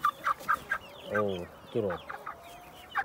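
Young Brahma chicks cluck and peep in short bursts, a few close chirps and two longer cheeping calls, with a brief murmured voice mixed in.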